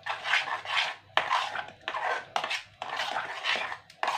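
A spoon scrapes and clatters around a bowl as a lemon juice skin-whitening mixture is stirred, in repeated close rasping strokes with brief pauses between them, and no talking.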